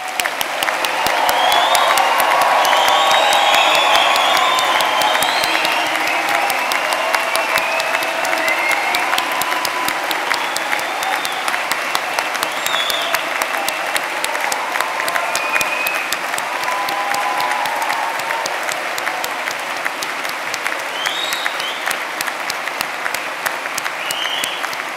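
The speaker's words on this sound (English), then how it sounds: "please join us in giving all recipients of awards and prizes a final round of applause" A large graduation audience gives a sustained round of applause for award and prize recipients, with dense clapping and occasional cheers and whistles that carry on for the full twenty-five seconds.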